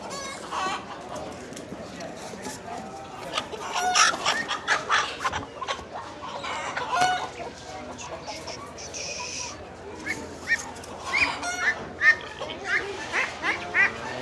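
Chickens clucking and crowing at a flea market bird sale, with showy breeds such as silkies, heard as busy, overlapping calls close by, with people talking throughout.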